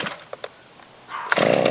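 A Stihl MS290 Farm Boss chainsaw with a 20-inch bar idles briefly with a rough, low rumble. It then revs up loudly at the end.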